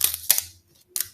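A knife slicing through a celery stalk to remove its pale white end, heard as two crisp crunching snaps close up with a brief pause before a third cut.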